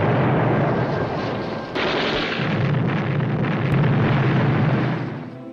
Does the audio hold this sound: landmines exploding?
yes